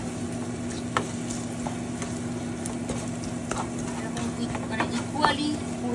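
String bean masala curry being stirred in a pan, with soft scraping strokes and a steady low sizzle running under a person talking throughout.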